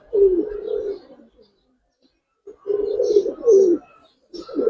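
Giribaz pigeons coo in two bursts of low, rolling, throaty calls separated by a quiet gap, close and fairly loud with no talk.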